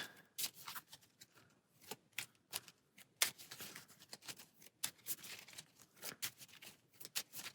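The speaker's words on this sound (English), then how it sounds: "So we will shuffle the deck." A deck of cards for the Arkham Horror card game is shuffled by hand in quick, repeated riffles and snaps, close and fairly quiet, with no talking.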